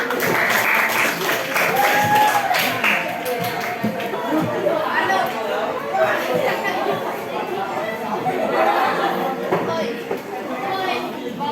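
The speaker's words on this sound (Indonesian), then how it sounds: "Beri tepuk tangan buat kita semua." A classroom group applauds together in a steady, continuous clatter of clapping, with some chatter and babble mixed in throughout.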